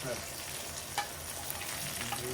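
Surmai fish slices frying crisp in a pan on a low gas flame, a soft steady sizzle with an occasional faint clink, fairly quiet and close with no speech.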